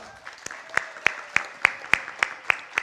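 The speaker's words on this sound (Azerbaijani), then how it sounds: "Təranə Rızayeva alqışlarınızla." An audience at a comedy show claps in a steady rhythmic beat, about three crisp claps per second, moderately loud and close, continuing for a few seconds.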